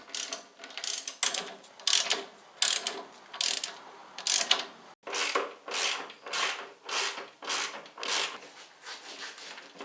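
Ratcheting on a spring compressor extender screw being tightened while refitting a VW Golf shock absorber, a steady series of close, crisp clicking strokes in rhythmic bursts, with no talking.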